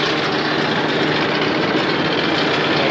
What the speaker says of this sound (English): Well, the tractor just decided to go into regen